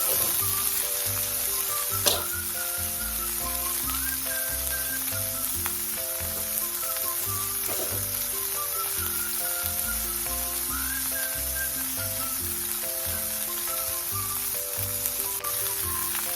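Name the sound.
chicken breast sizzling in cast iron skillet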